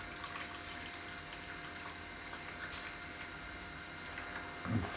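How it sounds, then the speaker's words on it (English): Water runs steadily over a Peltier module to cool it, a constant faint hiss and trickle with a soft pump-like hum beneath, rising slightly in the final moment. "I'll leave the water running for a couple of minutes to let it cool down."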